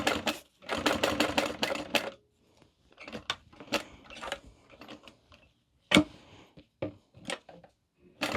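Bursts of a sewing machine stitching and backstitching through fabric while making a small mini wallet. The rapid mechanical chatter comes in short runs with pauses between them, near and clear, with no talking.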